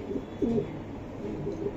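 A racing pigeon from the BRPFC club, 2023, gives soft, low cooing notes, a couple of short murmuring calls close by against quiet room ambience.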